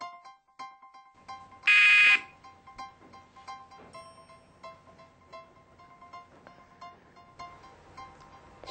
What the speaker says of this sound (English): We'll start at the sound of the buzzer.